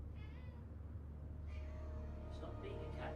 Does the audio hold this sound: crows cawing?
no